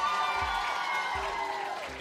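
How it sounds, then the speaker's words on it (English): An audience at a care awards ceremony cheers and applauds for the team award finalists, a steady, dense wash of crowd noise with scattered whoops and claps throughout. "A cheer for them."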